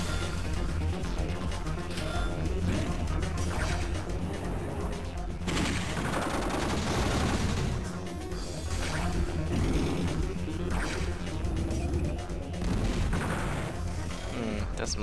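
Units in Advance Wars Dual Strike destroying each other with gunfire, heard as rapid bursts and volleys of shots over a game backdrop, loud and sustained, with a heavier surge in the middle.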